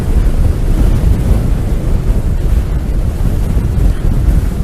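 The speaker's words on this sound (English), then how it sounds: "You could literally lean against the wind and be upright because it's that windy up here" Strong, gusting wind buffets the microphone beside the storm-damaged Southsea sea wall, with surf and waves rolling underneath as a continuous loud low roar, no voices.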